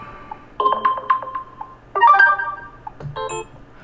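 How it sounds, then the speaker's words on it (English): A bright electronic alarm ringtone on a TCL 20 Pro 5G smartphone plays a melodic phrase of chiming tones, repeating in short bursts, clear and close. "these are your alarms, alarm ringtone."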